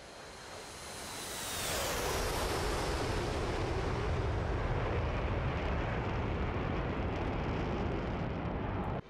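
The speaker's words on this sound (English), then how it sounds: "Sometimes I just love listening to that flyby." F/A-18C jet flying past in DCS World, carrier operations setting: a descending whine rising into a loud, sustained broadband roar that fills the rest of the passage with no talk.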